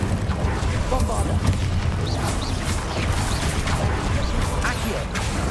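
Bombardo spell blasts in the video game Hogwarts Legacy, set amid continuous dense battle noise with repeated booming, crashing impacts and faint voices underneath, loud and close throughout.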